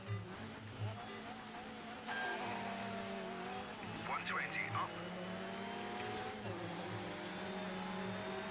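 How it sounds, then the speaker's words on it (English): Rally car engine racing in DiRT 3, an Escort among the cars, with a steady revving drone and gear-change shifts throughout while a voice talks over it. "Side by side, you can hear the other car."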